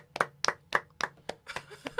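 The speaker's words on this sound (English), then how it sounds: "Let's clap it up for Jersey." Steady hand clapping on a livestream, about eight distinct, fairly close claps in an even rhythm that loosens near the end, with a faint voice underneath.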